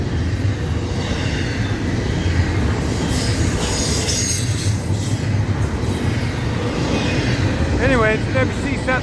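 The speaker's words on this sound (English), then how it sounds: "it's an FEC southbound train on" FEC southbound freight train passing at night in St. Augustine, Florida, a loud continuous roar of rolling cars with wheel squeal throughout, close by and alone without talk.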